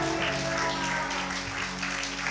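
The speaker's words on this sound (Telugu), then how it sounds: "గట్టిగా చప్పట్లు కొట్టాలి" A church congregation at a sermon claps loudly and continuously in a short, dense burst, the clapping layered over sustained musical tones.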